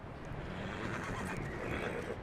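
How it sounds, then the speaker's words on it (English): A horse in the Red Dead Redemption 2 video game lets out a loud, close whinny that fills the whole moment, layered over a dense game soundscape. "Cavalo top de linha ali, ó."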